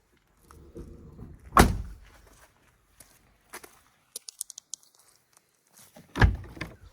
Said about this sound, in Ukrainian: Двері чути, як закриваються